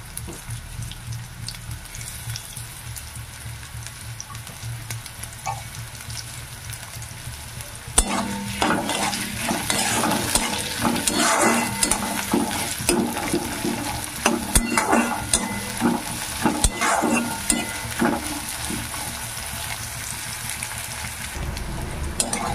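Chopped onion and chili frying in hot oil in a pan, a continuous sizzle that turns louder and busier about a third of the way in as the mixture is stirred, with scraping and clatter of the spoon and no talking.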